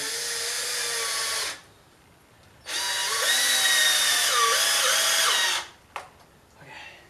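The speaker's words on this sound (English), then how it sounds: "Get your drill?" A power drill whirs in two long bursts with a short pause between, its pitch rising and falling as it bites, then a brief final zip.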